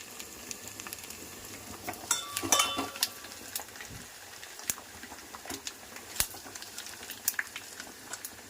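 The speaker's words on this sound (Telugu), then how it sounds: "తాలింపు మంచిగా వేగనివ్వాలి." Spices tempering in hot oil for a Godavari-style dish give a soft, continuous sizzle and crackle, with a few sharp pops and light utensil taps, close but fairly quiet.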